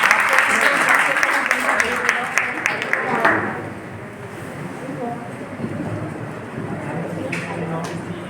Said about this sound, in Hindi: थोड़ी तालियां तो तेज बनती है ना